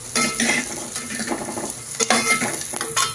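Turmeric, onion and garlic sauté in a pan, with a close sizzle broken by uneven scraping stir strokes and a few sharper clinks of the utensil against the pan.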